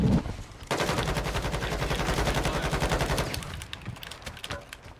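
Automatic gunfire in a Destiny Crucible match, a loud rapid burst of shots that starts abruptly and keeps up a fast steady rhythm for several seconds before thinning out near the end, with no voices.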